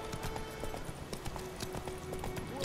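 Hooves of Roach, Geralt's horse in The Witcher 3, clop in a steady rhythmic trot at close range, continuous throughout with a faint game ambience underneath.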